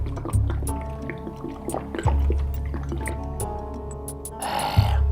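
Liquid glugs and drips quickly as a man gulps water down very fast, with wet squishy splashes and a burst of splashing pouring near the end.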